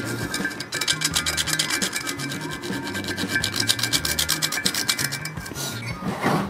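A metal file works the sharp edge of the boost port in the cylinder of a Yamaha RXT135 motorcycle engine during restoration: close, loud, rhythmic rasping strokes repeat steadily back and forth, with no talking.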